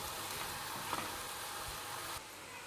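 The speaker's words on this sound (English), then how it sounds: "As you can see, it's frying nicely." Steady sizzling of chicken mince frying in a pan, a constant crackling hiss with a few faint stirring clicks, no talking.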